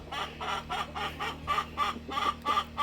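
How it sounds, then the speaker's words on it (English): Large Americana rooster clucking near Brahma chickens: a steady run of about ten rhythmic, moderately loud clucks in a row, over a low background hum. "And Dap is my big Americana rooster"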